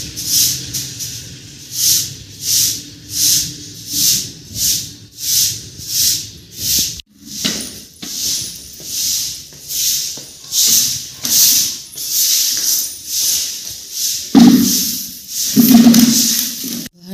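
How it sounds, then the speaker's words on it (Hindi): A broom sweeps outside a house in the dark early morning, rhythmic bristle swishes repeating roughly every second, close and clear, with a brief pause and rougher scraping strokes near the end. "बाहर झाड़ू लगा ली है"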